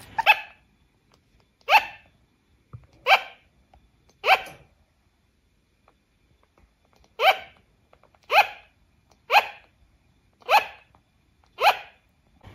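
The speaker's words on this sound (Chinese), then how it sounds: "蜜袋鼯为什么深夜会狗叫" A sugar glider gives its barking night call: short, sharp yaps in two bursts, four evenly spaced barks, a pause, then five more, close and loud against silence.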